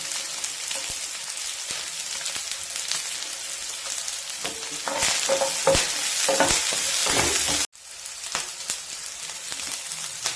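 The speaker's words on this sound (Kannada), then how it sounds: "ಈರುಳ್ಳಿ ಎಲ್ಲ ಕಲರ್ ಚೇಂಜ್ ಆಗ್ತಾ ಇದೆ, ಮೆಣಸಿನ್ಕಾಯಿ ಎಲ್ಲ ಚೆನ್ನಾಗಿ ಫ್ರೈ ಆಗಿದೆ." Curry leaves, dried red chillies and onion frying and being stirred in a pan for Tamil Nadu-style khara chutney, a steady close sizzle with scraping strokes that swells louder midway, cuts out briefly, then resumes.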